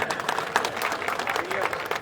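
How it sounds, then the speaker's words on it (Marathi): An audience applauds a guest at the inauguration ceremony of a Zilla Parishad employees' divisional sports competition in Akola, giving a short burst of dense, continuous clapping from a crowd. "जोरदार सरांसाठी सुद्धा एकदा टाळ्या."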